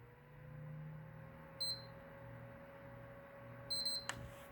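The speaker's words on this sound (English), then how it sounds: "And now it's going to beep, and we're looking for a double beep." A PlayStation 3 console gives two short, high-pitched electronic beeps about two seconds apart as it starts up in safe mode, over a faint steady hum in a quiet room, with a soft click near the end.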